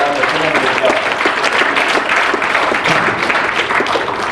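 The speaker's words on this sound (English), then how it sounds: "Give a round of applause for these students." A crowd gives a round of applause for students at the Stafford Sri Lankan School Doha Business BBQ, a full, continuous wash of clapping, fairly loud, with some voices mixed in.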